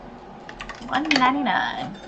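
Quick keyboard keystrokes type numbers into a price field in TCG Card Shop Simulator, a short flurry of soft clicks under a person talking.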